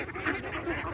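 Ducks feeding on greens and water spinach give a few short, nasal quacks over a brief moment, close by and moderately loud amid soft rustling.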